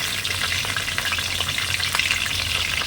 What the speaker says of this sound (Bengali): এবার এই গরম তেলে আমি কয়েকটা তেজপাতা দিয়ে দিচ্ছি, 4টে মতন শুকনো লঙ্কা দিচ্ছি